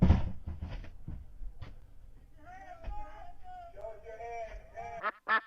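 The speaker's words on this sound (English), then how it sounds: "I would not have picked duck noises for that" Duck quacking noises play from a video as a series of short, nasal calls, moderately faint, following a few soft thumps and ending with brief louder bursts.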